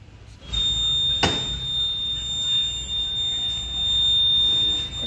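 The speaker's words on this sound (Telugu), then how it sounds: "సైడ్ స్టాండ్ అనేది ఓపెన్ లో ఉంది, కంటిన్యూగా బీప్ అనేది వస్తూనే ఉంటుంది" A TVS Jupiter 125 scooter, with its side stand left open, sounds a steady high-pitched warning beep that holds without a break, and a single soft click lands early on.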